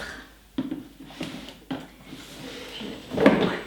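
A cardboard drawer of a Sephora beauty gift box slides open with a few soft scraping knocks and papery rustles, close up, ending in a louder shuffle of contents.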